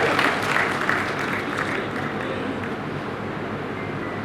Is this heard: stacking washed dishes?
no